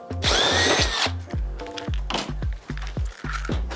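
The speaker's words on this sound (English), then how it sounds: "Just drill it back through from the front." A power drill whirs in short bursts through a timber door frame, one long run followed by several quick stop-start pulses, loud and close with a grinding bite into wood.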